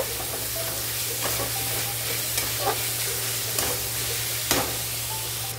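Tomatoes for a rohu fish curry fry and get stirred in a pan, a steady sizzle over a constant low hum, broken by occasional soft scrapes of the spoon.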